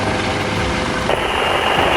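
A U.S. Coast Guard MH-65 helicopter thunders continuously while hovering low over water, its rotor wash producing a loud, steady roar with no pauses.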